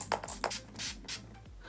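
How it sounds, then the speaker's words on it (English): Fix Plus setting spray is misted onto a face from close range: two quick soft hisses followed by two longer airy spritzes, with faint handling rubs and no speech. "Spray my face with some Fix Plus and some all-nighter."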